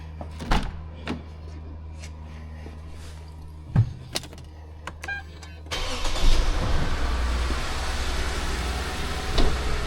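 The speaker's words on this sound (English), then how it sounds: "Start the Toyota." A Toyota car's engine starts after a few sharp clicks and knocks inside the cabin, settling into a steady, loud idle rumble close by for the rest of the clip, with no talking.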